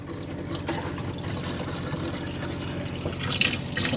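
Water runs steadily from a tap in a Chausson Flash 14 motorhome, a continuous splashing hiss that grows slightly louder toward the end.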